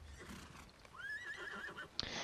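A horse in the Lord of the Rings Online game whinnies once, a rising, wavering neigh over soft hoof clops and low ambient noise, followed by a short sharp knock.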